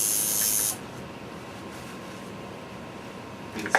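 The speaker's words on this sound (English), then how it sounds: "Spray this down." A short, loud hiss of a spray bottle spraying down a tattoo at the start, then a low steady hum with a faint rustle near the end.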